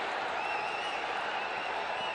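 Large crowd at an India versus Sri Lanka cricket super over, a steady broad roar of cheering and applause holding at an even level throughout, dense and continuous with no single voices standing out.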